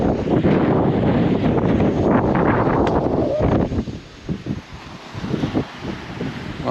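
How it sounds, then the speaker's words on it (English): Strong gusts of wind roar and buffet the microphone, loud and steady at first, then easing into intermittent rumbling bursts, on a cycling ride in Palmanova, Mallorca. "Whoa, the breeze is picking up."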